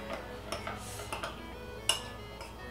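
Egg yolk and cream being mixed in a bowl for a homemade face mask, heard as soft irregular clinks and taps of a utensil against the bowl, fairly quiet and close.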